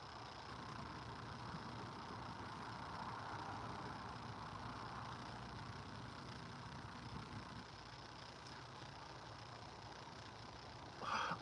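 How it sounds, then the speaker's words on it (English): Traffic from a nearby road outside a livestream, a faint, continuous low engine rumble and hum of passing cars, steady and distant, with a brief louder knock near the end. "yeah, I can hear cars myself"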